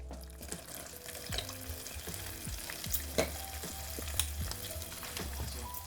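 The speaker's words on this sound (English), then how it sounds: "You're going to put in your vanilla extract. It's going to sizzle." Vanilla extract sizzles and bubbles in hot caramel for keto toffee in a pan, a steady crackling hiss with occasional sharp pops and stirring clinks.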